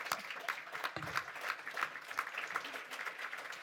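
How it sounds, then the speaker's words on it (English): Conference audience applauding after an economics talk, faint scattered clapping from a room of listeners, somewhat distant and thin. "A big applause."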